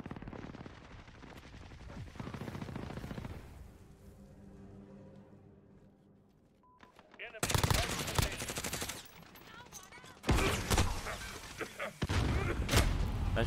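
Modern Warfare gunfire erupts in loud, rapid automatic bursts and sharp single shots after a quieter stretch of game noise, with brief talk mixed in.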